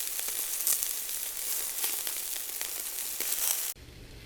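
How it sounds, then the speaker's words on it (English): Italian-flavored chicken sausages sizzle on a hot oiled Cuisinart griddle, a loud, close, continuous crackling hiss with tiny pops that cuts off abruptly near the end, leaving a low hum. "Putting the chicken sausages, these are Italian flavored chicken sausages, onto this griddle"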